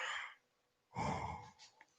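A person yawns, a long breathy exhale followed by a second deeper drawn-out yawn with a slight vocal groan, close and alone.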